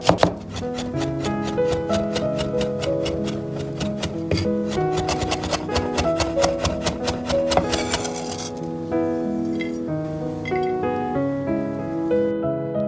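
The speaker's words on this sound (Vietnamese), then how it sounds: "Hành và tỏi thì mình sẽ đều băm nhỏ nha." A knife mincing shallots and garlic on a board for Vietnamese caramel-braised mackerel, with quick, steady chops running through the first two-thirds under background music.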